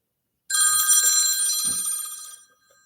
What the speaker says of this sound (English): I don't know who's calling me. Let me silence my phone.